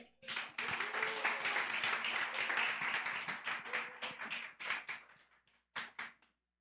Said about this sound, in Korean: 이 시간 김도연 우리 학생 나올 때 큰 박수 부탁드리겠습니다.